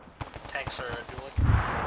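Tanks dueling in an ArmA battle: a rapid run of sharp gunfire cracks followed by a heavy, booming blast near the end, loud and close, with some radio chatter mixed in.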